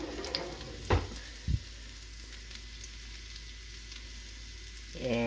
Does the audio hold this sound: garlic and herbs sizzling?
yes